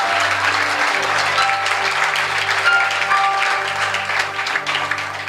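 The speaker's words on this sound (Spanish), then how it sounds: "dáselo fuerte el aplauso" A church congregation claps loudly and steadily through the service while a low sustained organ or keyboard chord holds beneath the clapping.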